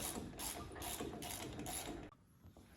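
A wrench ratchets rapidly in short bursts while loosening exhaust bolts on an old VW rail buggy engine, a close, quiet clicking that stops abruptly near the end, followed by faint tapping.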